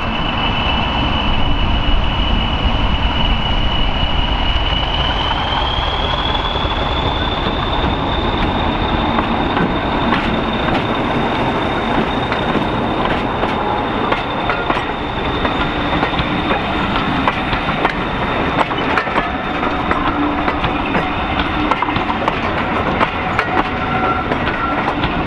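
Diesel locomotives at the Severn Valley Railway, Kidderminster, give a loud, steady engine rumble throughout, with a high whine that rises once and then holds, and occasional clanks over the continuous noise.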